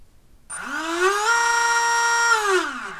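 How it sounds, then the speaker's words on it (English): A small electric motor mounted on a large plastic gearbox housing whines loudly and steadily after starting abruptly, holding a strong tonal hum for about two and a half seconds before trailing off, with no talking. "So the motor's a lot more noisy now it's attached to this big piece of plastic."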